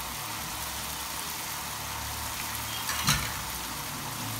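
Raw turmeric curry with cooked green onions sizzles steadily in a pan, a soft continuous frying hiss with a brief louder stir or clatter near the end.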